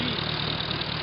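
A 1943 Hobart Brothers A3 generator driven by a Hercules engine runs steadily, a close, loud, even mechanical drone with a fast regular pulse and a broad whine, no voices over it.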